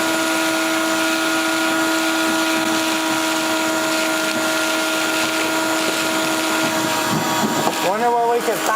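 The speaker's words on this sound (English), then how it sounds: "Yeah, I'll vacuum it out." A vacuum cleaner runs steadily and loudly, sucking debris out of an abandoned Hustler 6x6 amphibious ATV, its constant whine holding pitch before shifting and rattling near the end as the hose moves.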